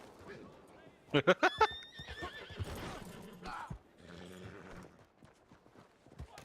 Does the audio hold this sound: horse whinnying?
yes